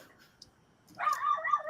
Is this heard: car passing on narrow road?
no